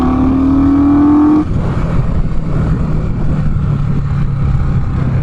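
An Indian Scout Bobber motorcycle engine revs up sharply with a rising whine for about a second and a half, then drops back into a loud, rumbling idle that continues close by to the end.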